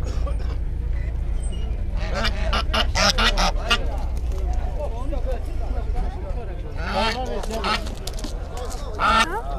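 Ducks and geese at a poultry market honking and quacking in busy, overlapping bursts close by, with people talking throughout amid the market bustle.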